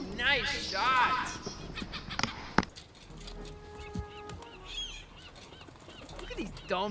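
Geese honk repeatedly in the video game Concrete Genie, a harsh cluster of calls up front, while a voice talks over the game's ambient sounds and effects.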